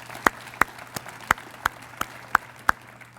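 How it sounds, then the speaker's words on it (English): Scattered claps from a few people at a United Way kickoff for Onslow County Schools, about eight sharp, separate hand claps spaced evenly over a low steady hum, fairly close and moderately loud. "Let's give all the CHEW sites a round of applause."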